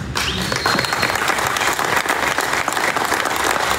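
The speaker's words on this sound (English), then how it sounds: "You can cheer in the back there, you can clap." A crowd at a press conference and grand opening in Odessa, Texas claps and cheers steadily throughout, a dense, continuous wash of applause with whoops rising over it.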